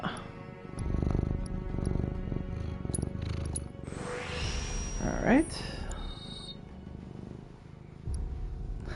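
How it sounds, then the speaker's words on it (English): A low, rumbling cat purr from the game Final Fantasy VII Remake sits within busy game audio and background noise, with a single short spoken word near the start. "I hear it purring."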